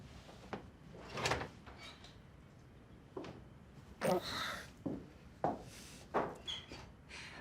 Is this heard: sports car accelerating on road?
no